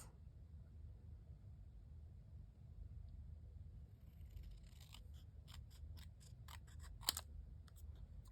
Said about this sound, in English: I'm going to trim this down just a little bit with my scissors